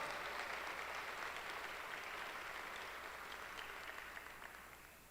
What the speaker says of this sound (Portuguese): Dê um aplauso à palavra de Deus